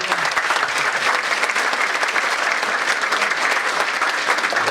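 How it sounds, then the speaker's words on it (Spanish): Steady applause from an audience at a talk and training session on formwork and scaffolding, a dense, even wash of clapping that holds loud and unbroken from start to finish. "Un aplauso para Fabio"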